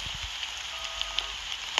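Rain falls softly in a Roblox game, a faint, steady hiss with a few scattered drop ticks and no voices.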